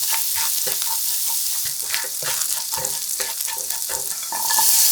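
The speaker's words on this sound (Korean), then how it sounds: "팬 그대로 올려서 올리브유 3스푼, 마늘 넣고 볶아 마늘향이 충분히 올라오면" Garlic stir-fries in three spoonfuls of olive oil in a pan, producing a loud, continuous sizzle and crackle, with repeated scraping strokes of a utensil against the pan close up.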